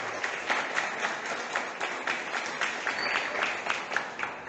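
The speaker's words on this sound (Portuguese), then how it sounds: "Salve de palmas." A crowd at an Umbanda gathering in São Gonçalo breaks into lively applause, a dense, fairly close clatter of many hands with irregular rhythmic peaks, steady throughout and with no voices over it.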